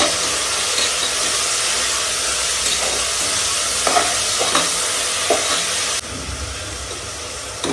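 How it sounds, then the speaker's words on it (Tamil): Onions and tomatoes sautéing in a pan, a steady close sizzle and hiss with occasional stirring scrapes, continuous throughout. "வெங்காயம், தக்காளி நல்லா வதங்கிடுச்சு"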